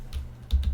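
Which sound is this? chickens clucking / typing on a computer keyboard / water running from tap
typing on a computer keyboard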